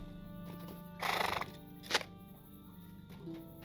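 A horse in the video game LOTRO gives one clear whinny, followed shortly by a brief snort, set against a quiet, steady background drone.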